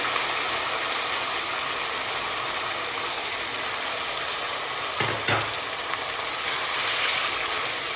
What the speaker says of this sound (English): we're going to add the tomatoes in it now. So the tomatoes that are blended goes in the onion